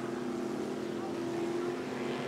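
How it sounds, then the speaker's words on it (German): Motorboats running out of a seaside harbour give a steady, continuous engine drone that holds at an even level throughout, with no clear talk over it. "Aber das sind die Motorboote aus dem Hafen."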